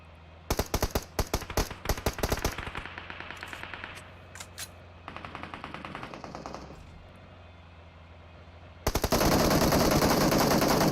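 Rapid bursts of automatic gunfire pour onto a vehicle in a battle royale game, with a dense volley of sharp shots, scattered follow-up fire, and then a loud, sustained roar at the end.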